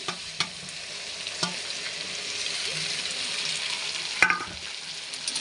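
A paste of tomato, ginger and dried chilli fries with potatoes in a pan, sizzling steadily up close while a utensil scrapes and stirs, with a few sharp knocks against the pan.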